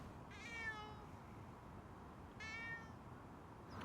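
A cat meows twice, each call drawn out and clear, with a long gap between, over a steady low background hiss and no talk.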